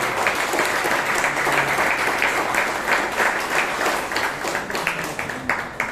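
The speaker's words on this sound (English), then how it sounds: "give big applause to Toastmasters" A Toastmasters meeting audience in Bangalore gives sustained applause, dense overlapping clapping from a room full of people, loud and steady throughout with a slight tapering toward the end.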